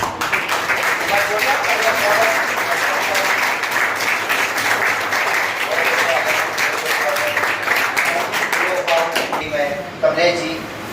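An audience at a felicitation ceremony with garlands claps loudly and continuously, a dense applause that fades near the end as a voice speaks over it.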